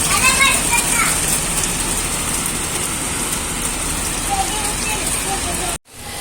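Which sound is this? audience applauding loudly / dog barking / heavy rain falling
heavy rain falling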